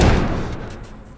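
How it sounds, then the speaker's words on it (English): A heavy door slams shut and is barricaded in The Last of Us Remastered, a loud broadband thud that fades into a low rumbling decay over a second, heard alone. "Barricade the door."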